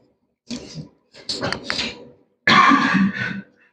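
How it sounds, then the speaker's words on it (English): A man coughs in three harsh, rasping bursts, close to the listener, with short silences between them. "You all heard that he's coughing his lungs out."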